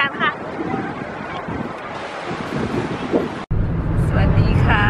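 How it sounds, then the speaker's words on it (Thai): Surf rolls onto the Baltic Sea beach at Scharbeutz, Germany, a steady broad wash of waves mixed with wind buffeting the microphone, continuous and fairly loud with no talk. "เราอยู่ที่ทะเลค่ะที่ออสเซของที่เยอรมันนะคะ"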